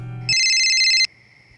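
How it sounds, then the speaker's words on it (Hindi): A phone rings for an incoming call with one loud, shrill electronic ringtone burst that cuts off abruptly, leaving a faint room hum. "और फिर एक रात राजीव अन्ना का मुझे फ़ोन आया।"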